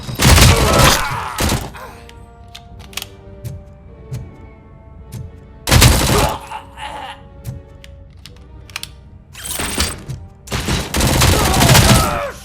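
Loud bursts of gunfire in the RoboCop Rogue City video game come in three dense volleys, separated by quieter gaps that carry sparse single shots and ringing tones.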